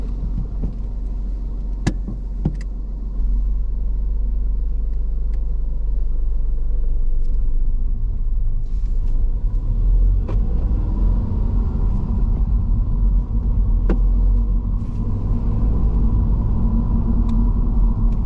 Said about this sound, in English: I like to turn the vehicle on, and I like to move off when safe to do so